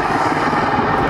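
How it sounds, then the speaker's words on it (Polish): Mi-24 military helicopter flying at the Aerobaltic 2021 air show in Gdynia, a loud, steady, close rotor and engine roar filling the moment without any voices. "Ten element pilotażu śmigłowca, o którym Państwu wspominaliśmy"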